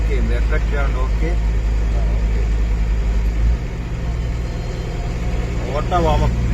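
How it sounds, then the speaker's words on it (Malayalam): A car engine idles through its automatic warm-up, a constant low mechanical hum with a slight drop in tone midway, while someone speaks briefly at the start and again near the end. "ഇനിയിപ്പോ ഇത് എഞ്ചിൻ ഓട്ടോ വാമപ്പ് ആവും."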